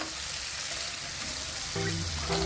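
Onion frying in a pan until brown gives a continuous close sizzle, steady and moderately loud, with a faint stir near the end.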